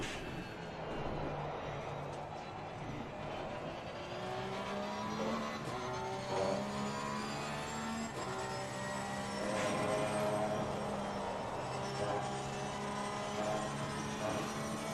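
Porsche race car in the Assetto Corsa Competizione sim, engine droning and revving steadily through gear changes for the whole stretch, loud and close with no talk.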